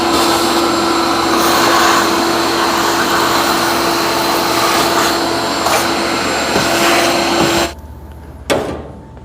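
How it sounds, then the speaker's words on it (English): A vacuum cleaner runs steadily with a loud, constant whine and hum, then cuts off abruptly near the end, followed by a brief knock. "So now vacuum."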